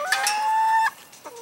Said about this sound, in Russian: Курочки уже встречают Анечку.